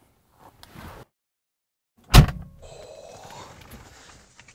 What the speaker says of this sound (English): listen to the sound of the door closing.